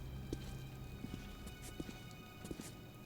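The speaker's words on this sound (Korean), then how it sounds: "발소리 나는데? 이거 봐, 이거 봐, 오고 있어." Footsteps approaching in Metro: Last Light, a run of soft, evenly spaced thuds over a low, steady droning background, fairly quiet and with no talking.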